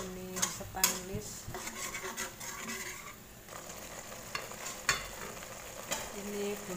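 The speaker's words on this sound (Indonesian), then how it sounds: "kita tumis bumbu halusnya sampai matang" A stainless steel spatula stir-fries ground spice paste in a pan for a clam stir-fry. It makes repeated clanking scrapes against the metal over a soft, continuous sizzle, close up and fairly quiet.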